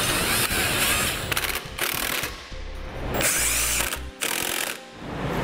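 A ratchet and power tool snug down the bolts of a Draw-Tite Max-Frame trailer hitch receiver on a vehicle, giving loud bursts of clicking and whirring separated by brief pauses.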